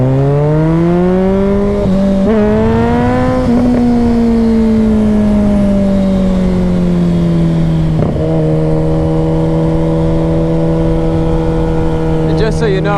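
A 2010 Kawasaki Ninja ZX-14R engine drones loud and close while riding, its pitch rising and falling gently as the throttle shifts, with wind rush steady underneath.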